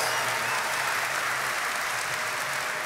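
Steady applause from an esports crowd at a Dota 2 grand final, a dense wash of clapping that holds at an even level throughout.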